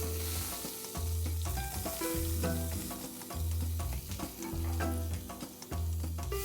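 Finely chopped onions fry in melted ghee on a hot iron tawa for a mutton liver pav dish, giving a steady sizzle with stirring under continuous rhythmic music that has a pulsing bass.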